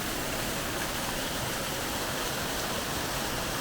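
A small waterfall in the Rhodope mountains near Hrabrino village rushes in a steady, even broadband wash of falling water, constant and fairly soft, with no voices.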